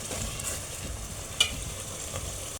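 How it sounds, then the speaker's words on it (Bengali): Masala spice paste for beef curry frying in a pan, with a steady close sizzle and the soft scrape of stirring throughout, one brief clink near the middle. "আমি এখন মশলাটা কষিয়ে নেওয়ার জন্য হালকা একটু পানি দেব, নইলে নিচে লেগে যাবে।"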